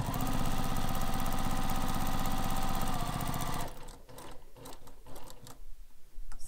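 A sewing machine runs loud and steady, stitching a seam on a carryall bag for several seconds, then stops, leaving quieter handling noises and fabric rustle.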